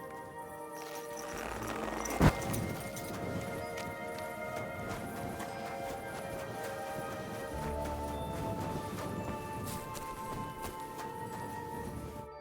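Horse hooves clip-clop steadily in the Kingdom Come Deliverance 2 video game, a continuous rhythmic plodding under a busy bed of game music and ambience, with one sharp knock early on.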